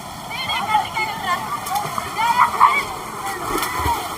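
Water splashes and sloshes nearby as someone dives into a waterfall pool at Pulimedu falls near Vellore, with a rushing flow behind, while several people shout and talk over it.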